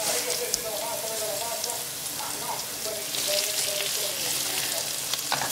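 Strips of trimmed artichoke sizzle and fry in a pan with garlic and shallot, a steady crackling hiss with occasional stirring clatter, no voice over it.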